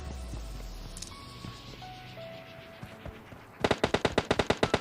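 Gunfire in PUBG Mobile: faint distant shots and game ambience, then a loud close burst of about a dozen rapid automatic rounds at the end.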